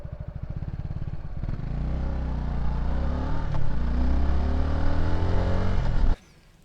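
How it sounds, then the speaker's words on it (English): A 2025 Suzuki Gixxer 250 motorcycle engine catches with a few pulsing chugs, then settles into a running drone with wavering pitch before cutting off abruptly near the end. "Idles smoothly at around 1600 RPM and is very quiet when idling."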